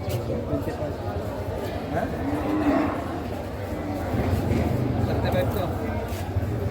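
Cattle low and moo at a busy livestock market in the Philippines where cattle and carabao are traded, the animal calls mixed into a dense crowd hubbub with people talking throughout.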